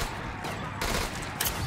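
Gunfire from weapons in a Call of Duty custom zombies map forms a continuous, loud, dense roar of rapid shots with a few sharper bursts, and no talking is heard.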